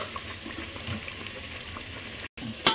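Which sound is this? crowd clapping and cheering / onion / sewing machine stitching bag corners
onion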